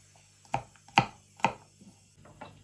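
Three sharp knife chops on a cutting board, evenly spaced about half a second apart, followed by a few softer taps, as green beans are cut.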